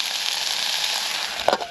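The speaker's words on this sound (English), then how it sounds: "Don't you can hear them sizzling, they're doing their job!" Close, steady sizzling of onions and mushrooms in a pan at a wild camp by Loch Laidon, Rannoch Moor, Scotland, with a bright, even hiss and a short clatter near the end.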